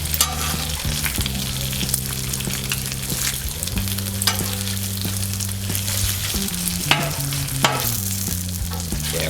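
Bacon strips sizzle and fry on a 36-inch Blackstone flat-top griddle, a steady close crackle that runs throughout with occasional scraping and flipping noises and no talking.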